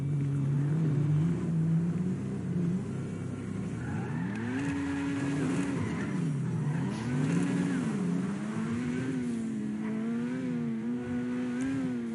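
Fast car engine revving and accelerating, its pitch rising and falling in repeated surges as it drives, loud and continuous with no voices.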